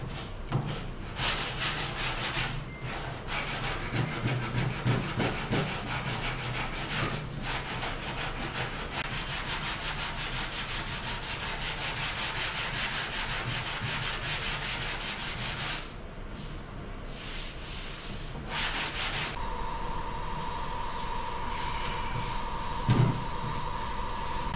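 Steady abrasive rasping of 80 grit sandpaper on the floor of a 1957 GMC truck bed, loud and continuous with brief pauses, then a faint hum near the end.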